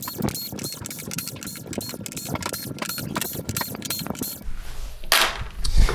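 Screws are removed from the frame of a Samsung UN46D6900WF television, a close series of rapid ratcheting clicks from a screwdriver, followed by a brief scrape and rustle near the end.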